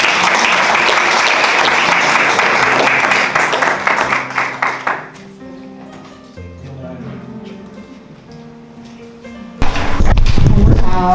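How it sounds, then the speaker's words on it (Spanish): A loud round of applause from a church congregation during an evening service fills the first five seconds, a dense steady roar of clapping that fades into quieter background sound before a burst of noise returns near the end. "que la reciban con un fuerte aplauso"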